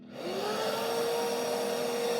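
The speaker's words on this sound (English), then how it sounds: "turn the hoover on" A vacuum cleaner switched on for carbon cleaning on a cheap Audi R8 spins up within a fraction of a second, then holds a steady, loud whine with a rushing airflow hiss.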